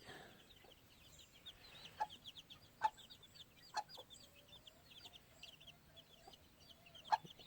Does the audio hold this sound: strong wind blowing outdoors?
no